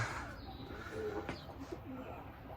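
A game pigeon, a flying breed kept for sport, coos softly a few times against steady outdoor background noise, with a faint chirp or two mixed in.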